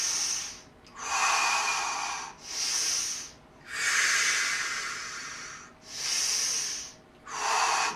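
Slow, deep breaths during a seated chair yoga session, long airy inhales and exhales alternating in a steady rhythm, close and clearly audible with no talking.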